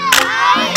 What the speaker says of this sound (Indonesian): Tarian Pak Tira sangat unik loh dan dimulai oleh teriakan pemimpin tarian.